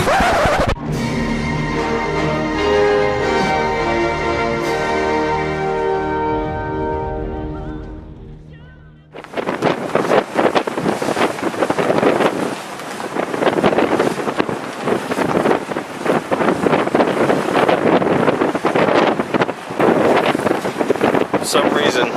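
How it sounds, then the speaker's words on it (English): Strong wind buffets the open deck of a New York harbour ferry, a loud, steady broadband rush with gusty fluctuations that starts abruptly partway through, after a stretch of music-like tonal sound. "For some reason, it's a lot windier on the other side of the ferry."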